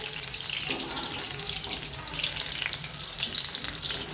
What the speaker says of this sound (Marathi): आता मस्तपैकी आपण तळून घेऊया